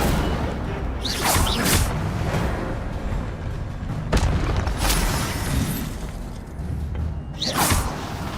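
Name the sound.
Incendio fire spell cast in a video game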